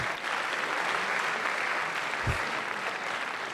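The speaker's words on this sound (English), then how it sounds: "Give this man a round of applause" Audience applause at a Boys State gathering, a broad, continuous wash of many hands clapping that holds steady throughout, with one low thump partway through.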